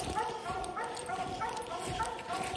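Hunting hounds, American Leopard Hounds, bark and yip at raccoons treed in the woods, the barking rough and repeated from a short distance amid outdoor noise.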